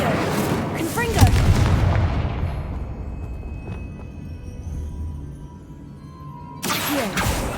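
The Confringo explosive spell in the video game Hogwarts Legacy fires off a heavy booming blast that rumbles and decays over several seconds, followed by a second burst at the close.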